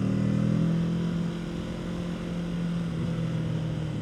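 A Kawasaki Z650 motorcycle engine hums in third gear, a steady droning tone at fairly constant speed with wind rush, heard from the rider's position without any talk.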